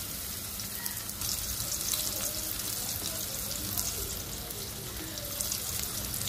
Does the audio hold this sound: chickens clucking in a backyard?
no